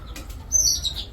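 Racer pigeons, a prized pair of Maxi birds, in their loft: a brief flutter of wings with a faint, high chirp over a low background hum.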